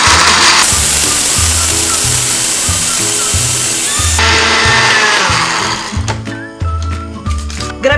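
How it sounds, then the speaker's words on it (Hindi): An electric grinder pulverizes whole garam masala spices, a loud continuous whirring grind with rhythmic pulsing that shifts and roughens toward the end, with no voices. "गरम मसाले के तमाम इंग्रेडिएंट्स को मैं ग्राइंड"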